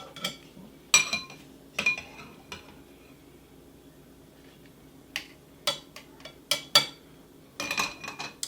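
Food dropped into a pan on a grill with butter, giving sharp metallic clinks and scraping bursts at irregular intervals over a faint background.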